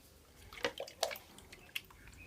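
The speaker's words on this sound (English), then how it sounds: "we are going to partly fill it with rainwater" Small splashes and drips of rainwater poured into a glass jar, a few distinct trickling bursts, close and fairly quiet with no talking.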